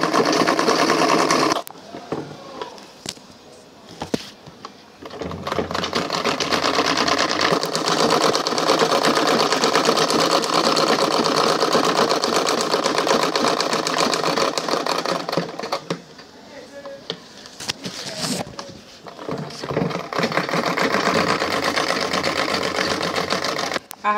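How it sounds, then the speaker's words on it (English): A sewing machine stitches around the bottom piece of an Ankara fabric handbag, a loud, steady mechanical whirr running in long stretches with brief stops and restarts, while a person talks in the gaps. "Bottom piece, I want to sew around before I attach it to the body of the bag."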